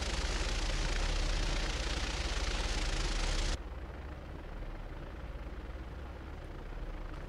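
Twin-engine Piper Twin Comanche PA30 in the X-Plane 11 flight simulator, with a steady loud engine drone that drops suddenly to a quieter, duller hum partway through and holds there.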